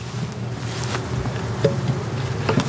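Honeybees drone in an opened nuc hive, a dense low buzzing swarm close by, with brief wing whirs passing near throughout.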